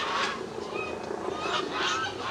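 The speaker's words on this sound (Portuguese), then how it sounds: "Tá muito pato aqui." Ducks call outdoors in a busy, honking chorus that goes on steadily against a constant open-air background hiss.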